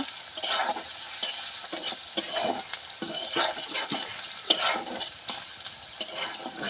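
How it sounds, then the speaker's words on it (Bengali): Onion, garlic and green chilli fry in a pan while being stirred, with close, steady sizzling broken by repeated scraping strokes of the spoon at an even rhythm; no voices. "পেঁয়াজ আর রসুনটা বেরেস্তার মতো আমি ভেজে নিয়েছি"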